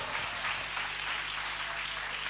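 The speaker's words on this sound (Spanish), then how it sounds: "denle un fuerte aplauso al Señor" A church congregation gives a strong round of applause to the Lord during a sermon: a dense, steady wash of clapping from many hands, with a faint low hum underneath.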